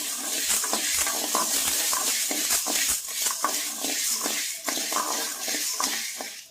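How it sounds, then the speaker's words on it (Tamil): Black urad dal being dry roasted in a pan, a steady dry rustling hiss with frequent scraping and stirring strokes of a spoon against metal, continuous and close. "நல்லா வாசனை வர்ற அளவுக்கு வறுத்து எடுத்துக்கிறோம்"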